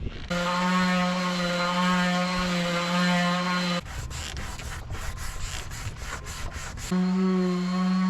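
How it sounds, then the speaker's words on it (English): Scratchy back-and-forth strokes of hand sanding varnish off wood on a wooden boat, bracketed before and after by a steady mechanical hum. "When you're sanding off just varnish, you don't want a hard sanding block"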